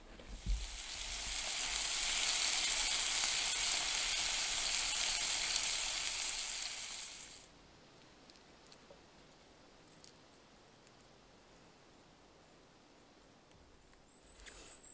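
Loud bright sizzling of bacon and onion frying in a pan for several seconds, then it drops to a faint quiet crackle with occasional small clicks.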